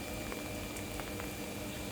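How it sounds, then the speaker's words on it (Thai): Rain falling steadily on a vegetable garden, a dense, even patter and hiss that carries unbroken throughout. "สวัสดีวันฝนตกนะคะ ตกแต่เช้าเลยค่ะ"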